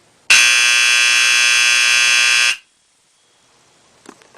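A Simplex fire alarm blares in one loud, steady electronic tone for about two seconds and then cuts off abruptly, leaving near silence with a couple of faint clicks afterward.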